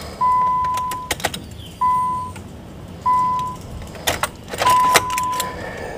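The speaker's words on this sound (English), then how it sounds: "you want to reprime your fuel lines. I'll let you hear the pump." Fuel pump priming on a Nissan Sentra 1.8L: several short electric whirs, each about a second long, come in separate bursts between clicks and clunks of the key and relays, close up with no talking.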